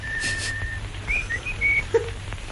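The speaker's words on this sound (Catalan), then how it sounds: "sentireu un xiulet xiulant la melodia" A person whistles a short melody in a film scene, thin clear notes rising and falling over a low steady background hum, with no talking.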